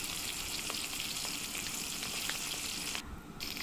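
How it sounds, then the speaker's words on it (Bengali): Fish pieces fry in oil in a pan before being cooked with sweet pumpkin, giving a continuous, even sizzle close up with no talking. "প্রথমে মাছ ভেজে নিচ্ছি"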